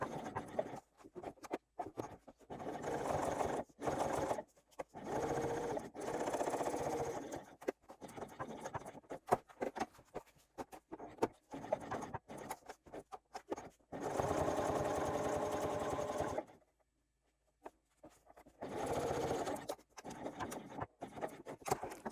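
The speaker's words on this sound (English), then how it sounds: "I'm going to start at the end, back stitch, sew all the way up, pivot again, and do the same on the lower side." A sewing machine stitches a zipper onto a clutch bag in close, moderately quiet bursts of rapid needle chatter, separated by short pauses and one longer silence for pivoting.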